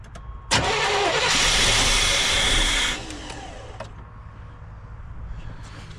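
A 1989 GMC Sierra StepSide pickup engine cranks after a fuel pump replacement, a loud, steady starter whir that runs about two and a half seconds before cutting off, leaving quieter mechanical ticks and background hum.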